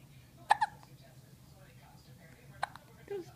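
A young girl hiccups twice, about two seconds apart, each a sharp, quick, close catch of breath in a quiet room, with faint soft vocal sounds around them.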